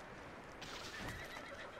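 A horse neighs in Red Dead Redemption 2, a single shrill whinny rising and falling over about a second, with faint hoof clip-clop and game ambience around it.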